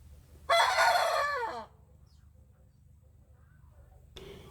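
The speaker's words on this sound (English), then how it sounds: "it was the more advanced boy who learned to crow first" A young cockerel gives a single rough, slightly strained crow up close, then falls quiet before a brief follow-up sound at the end.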